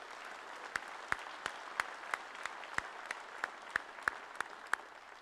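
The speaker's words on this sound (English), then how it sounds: "I think Chris deserves a round of applause of what he did in his tenure as a tenure here." At an industry day gathering, slow, sparse claps ring out one at a time in an otherwise quiet room, about a dozen distinct hand claps spaced evenly and fairly faint.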